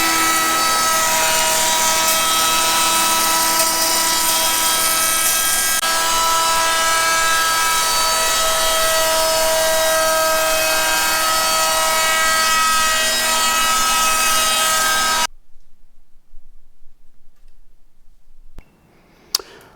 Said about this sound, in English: I'm going to do that here on the router table.